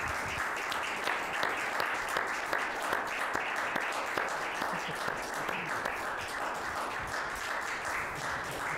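An awards gala audience applauds a folk band's winning album with steady, moderately loud clapping; individual claps are distinct in a regular, rhythmic patter that holds for several seconds.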